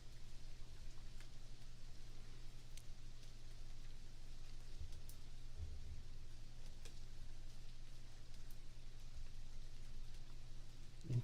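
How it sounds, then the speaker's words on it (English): A rain sound effect plays quietly in the background, a steady even patter on a surface over a low constant hum, with no voices. "Interesting choice to have rain in the desert in the background."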